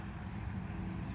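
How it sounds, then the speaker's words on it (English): Traffic on a nearby main road makes a continuous low rumble and wash of noise, steady and moderately loud outdoors in a garden. "Sorry about the traffic noise. I live on a main road."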